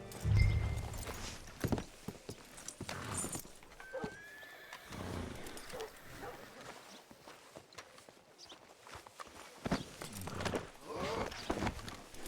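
Horse hooves clop at a walking pace amid other ambient sounds in Red Dead Redemption 2, with a whinny early on and scattered thumps, moderately quiet throughout.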